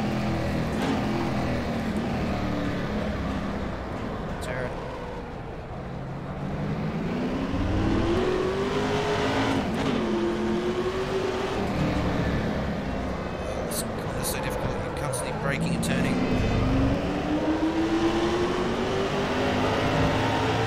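A touring car engine revs and shifts through gears during a race lap in rFactor 2, pitch climbing and dropping steadily under a driver's continuous commentary.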